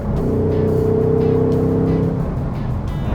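A 2024 RTR Mustang Spec 2 with a dual throttle body, about 480 hp, revs hard close by, its engine note climbing loudly for about two seconds before easing off, with no speech.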